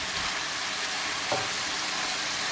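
Fresh garlic and ginger fry in a karahi for dhaba-style Sindhi chicken, giving a loud, continuous hiss of hot oil with one brief knock partway through.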